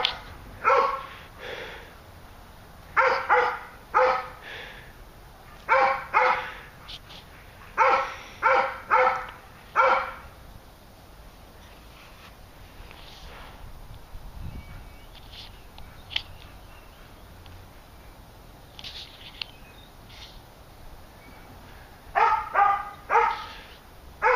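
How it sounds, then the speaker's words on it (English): A dog barks in repeated bursts outdoors in a winter garden, clusters of loud barks separated by quieter stretches of ambient outdoor sound, with a final volley near the end. "There's Fire Dog again."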